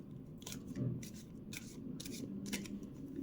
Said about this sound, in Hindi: done with shuffling and presenting